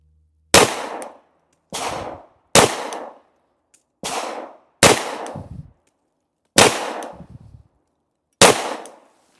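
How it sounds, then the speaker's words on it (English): Seven sharp shots from a Glock 43X pistol firing 115-grain steel-case rounds, each a loud crack with a short decaying tail, spaced irregularly about one to two seconds apart, no talking. "We'll shoot 5 shots"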